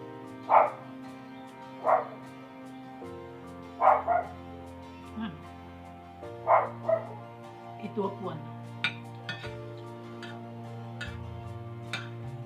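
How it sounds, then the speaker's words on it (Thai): A dog barks in short separate bursts, a single bark or a quick pair every couple of seconds, close and fairly loud over a steady low hum, with faint ticking in the background. "แต่เห่าแค่นี้ไม่เท่าไหร่นะเพื่อน"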